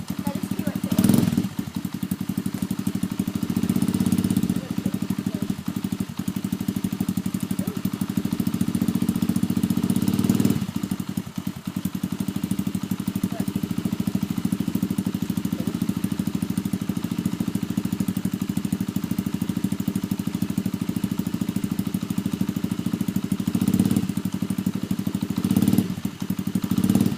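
A four-stroke dirt bike engine runs at a steady idle, a continuous low throbbing drone with a few brief revs and clunks, while voices talk in the background.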